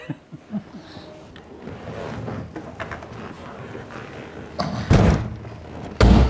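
A car trunk lid is pulled down and slammed shut, a few soft knocks and rustles building to two loud, sharp thuds near the end.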